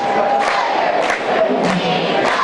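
Basketball student section crowd at a boys JV high school game cheers loudly and steadily on their feet near the end of the reserve contest, a dense continuous roar with shouts rising through it.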